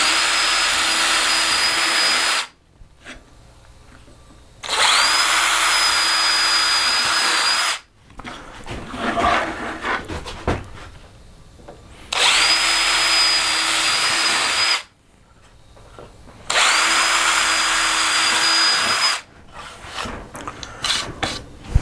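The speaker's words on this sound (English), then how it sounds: "then we're going to just drill in" A power drill whines steadily through wood in four separate bursts of a few seconds each, drilling marked holes for a lantern table, with quieter scraping and handling noises in between.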